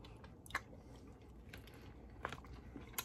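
Someone bites and chews an artichoke, with soft wet crunches and a few sharper bites standing out over quiet, close-up mouth sounds.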